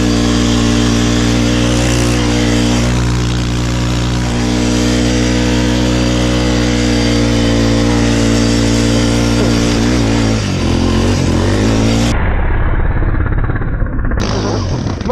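A Honda Foreman 4x4 quad ATV engine revving hard on snow, a loud, close, sustained mechanical roar with rising and falling pitch, briefly dipping near the end.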